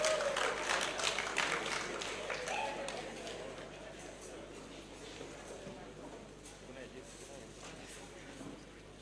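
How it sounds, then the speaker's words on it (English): An audience at the launch of a community social center applauds for the artist Susan Owiyo, with dense clapping loudest at the start and easing into a softer, steady patter. "Round of applause for Susan Owiyo."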